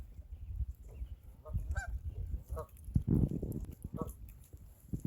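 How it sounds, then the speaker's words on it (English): Several geese honk at moderate distance in short, scattered calls over outdoor lakeside ambience and low rumbling, at Mayfield Lake. "Checking out the geese."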